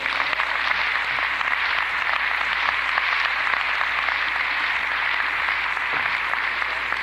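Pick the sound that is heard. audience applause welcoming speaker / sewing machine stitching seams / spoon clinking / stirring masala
audience applause welcoming speaker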